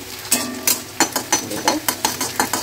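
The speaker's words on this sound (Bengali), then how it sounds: "রসুনটা ভালো করে ভাজা হবে, তারপরে এর মধ্যে দেবো পেঁয়াজ" Garlic fries and is stirred in hot oil in a wok, a close series of regular scraping, clattering strokes about every third of a second over a low sizzle.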